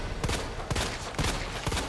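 Gunfire in the Resident Evil 2 Remake video game, four loud sharp shots spaced about half a second apart against a dense, noisy game background.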